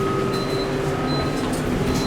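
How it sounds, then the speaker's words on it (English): A loud fan inside a 1998 Montgomery Kone hydraulic elevator at St Mary's Catholic Center in College Station, Texas, roars with a steady, close, unbroken whir and a constant tonal hum. "Oh, we got a loud fan that we got to deal with."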